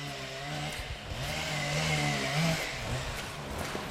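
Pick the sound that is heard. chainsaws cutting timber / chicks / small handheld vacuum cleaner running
chainsaws cutting timber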